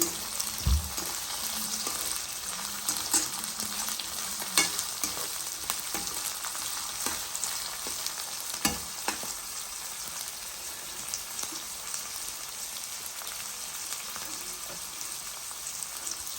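Chopped capsicum fries in hot oil with a continuous crackling sizzle, broken by occasional scraping and stirring knocks from a spatula; nobody talks over it.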